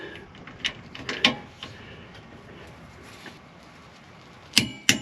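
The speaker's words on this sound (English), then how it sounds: "so I'm resetting my torque wrench to 118" A torque wrench ratchets while tightening a shock absorber bolt on a Ram ProMaster van: a few sharp, separate clicks spaced across a quiet garage background, with a close pair near the end.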